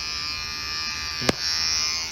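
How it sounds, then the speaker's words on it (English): Electric shaver buzzing steadily close up, held tight against the skin at the bottom of the hairline during a home men's haircut, with one brief sharp click partway through. "So you go really tight on the bottom here with the shaver very close to the skin."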